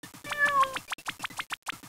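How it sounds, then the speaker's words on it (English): A cat meows repeatedly up close, a quick run of short, high, nasal cries with brief gaps between them, clear and alone. "That's a cat."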